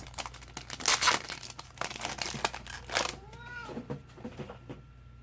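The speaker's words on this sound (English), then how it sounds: "The cat wanted to get out of the room." A cat meows in a few short, rising cries while it waits to get out of a room, over loud crinkling and tearing of card-pack wrappers and nearby talk.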